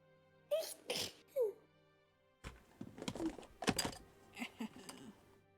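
A sneeze bursts out during a live gaming stream: a few sharp, close nasal bursts, then a louder cluster of breathy, explosive sounds and rustling as the person recovers, with no talking.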